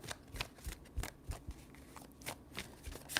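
Tarot cards are shuffled by hand in a series of quick, crisp riffling bursts spaced unevenly across the span, close and quiet, with no talk over them.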